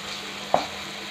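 Masala for a prawn curry fries in a pan with a continuous soft sizzle, broken by a single short scrape of stirring midway.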